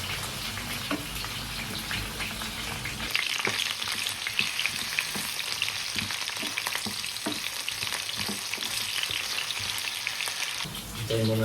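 Chicken livers and gizzards fry in a pan, a dense, steady sizzle with crackling pops throughout, close and loud, intensifying after the first few seconds and carrying on alone without talk.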